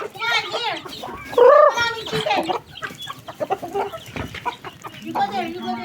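A red junglefowl calls close by with short, clucking, crowing notes. People chatter and call out over it.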